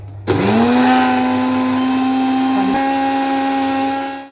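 A kitchen mixer grinder whirs up and runs steadily at a high pitch, with a brief hitch in the motor partway through before it spins down.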